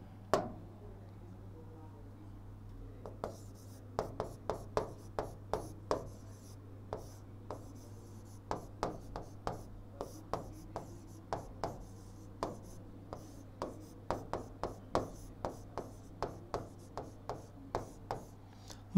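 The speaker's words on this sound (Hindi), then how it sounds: "जैसे मैं एक वाक्य लिख रहा हूं" Pen or pencil writing a sentence on paper, a run of short scratchy strokes and taps in uneven bursts, close and fairly quiet over a steady low hum.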